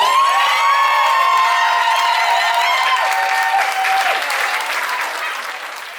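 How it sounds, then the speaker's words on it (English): A crowd at an outdoor rockabilly pin-up contest at a riverside campground applauds and cheers loudly for a contestant, with whoops and high shouts over steady clapping that slowly fades. "Please give a round of applause for contestant number 9, Miss Casey Jo Rumble."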